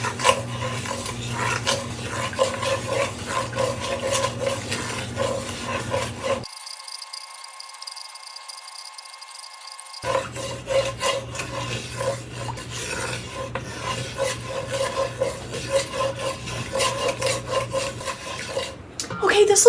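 Roux stirred constantly in an enameled Dutch oven for chicken and sausage gumbo, a steady rasping scrape of the spoon against the pot bottom, close and continuous, broken by a short quieter stretch.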